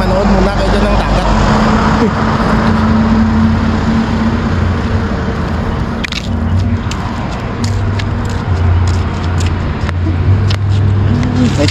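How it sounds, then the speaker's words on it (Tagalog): A vehicle rolls past on a seaside road amid a steady wash of loud road and engine noise that swells and eases, with faint voices in the background. "May sasakyan."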